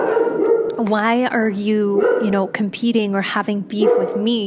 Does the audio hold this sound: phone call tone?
no